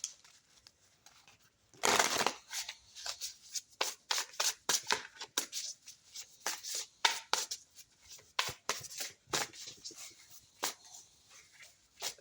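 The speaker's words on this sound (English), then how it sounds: "Shuffle for Aquarius." Tarot cards being shuffled by hand, giving bursts of papery riffling and slapping in an irregular rhythm, close and fairly loud, with short pauses between handfuls.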